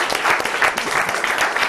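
An audience breaks into warm, steady applause for the swimmer Matteo at an Italian swimming federation event, a dense patter of many hands clapping close by for under two seconds.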